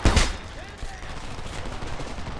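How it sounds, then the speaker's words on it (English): Gunfire in the video game Homefront, with a dense loud burst of rapid shots at the start and then a steady rattle of distant firing in a noisy battle. "Give me suppressing fire!"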